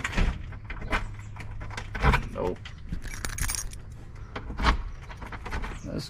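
Keys jangle and scrape as they are tried in the door locks of a house during an inspection, with several bursts of metallic rattling, clicks and handle knocks up close, and someone speaking at times.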